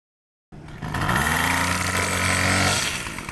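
Small gas engine on a cutting machine starting after a moment of silence, catching quickly and running at a steady, fairly loud rumble outdoors at a property being cleared.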